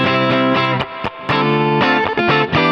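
An AudioScape 76F compressor driven hard into distortion, with a gritty, broken-up harmonic tone on a sustained mixed source. The level stays loud and dense throughout, with a few short dips between phrases.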